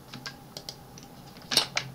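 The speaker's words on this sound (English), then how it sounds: "So first of all, type from keyboard" Typing on a computer keyboard, a handful of quiet, scattered key taps nearby with one louder double click near the end, no voices.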